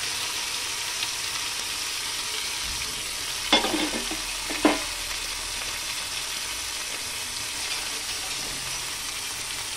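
Potatoes and carrots frying in a pan, a soft steady sizzle with two brief clattering stirs of a spatula near the middle, otherwise quiet hiss with no talk.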